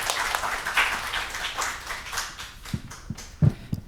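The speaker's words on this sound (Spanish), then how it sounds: "Con un aplauso, démosle la bienvenida, por favor, a nuestra invitada" An audience at a university lecture on Caribbean humour applauds to welcome a guest professor, a dense wash of clapping that thins out toward the end, with a few sharper, louder claps near the close.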